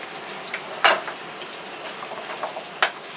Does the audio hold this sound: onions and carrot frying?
yes